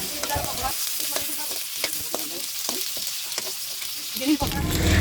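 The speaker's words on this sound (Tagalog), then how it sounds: "Ginisa ko lang po ito hanggang sa maging brown ito bago ko po isinunod ang okra." Garlic, onion and okra sautéing in a hot pan, a steady bright sizzle with repeated clinks and scrapes of a spatula stirring, close and continuous, with a heavier clatter near the end.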